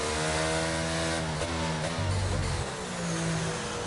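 Engines of racing cars in a video game, running together under a safety car with a steady, layered tonal drone and harmonics that shift as the cars hold back from full throttle.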